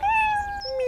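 A cat in the café management game Café Owner Simulator gives a single short, clear meow, rising then falling, with no one talking over it.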